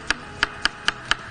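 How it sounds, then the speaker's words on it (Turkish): Knife chopping through a banana on a kitchen cutting board, five crisp evenly spaced cuts in quick succession, close and clear with no talk. "Muzumuzu doğruyoruz."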